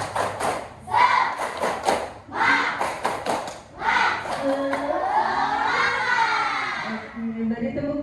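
Schoolchildren in a classroom performing a rhythmic spirit clap, bursts of group clapping in a patterned beat mixed with children's chanting voices, ending with sustained shouted voices over the last few seconds.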